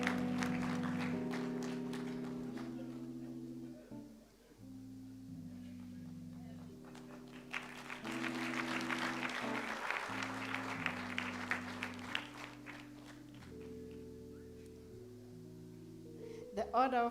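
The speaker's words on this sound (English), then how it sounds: "Let's give him a great round of applause." Applause from an audience at a national orders award ceremony, steady clapping running under sustained instrumental music, swelling louder partway through before settling back.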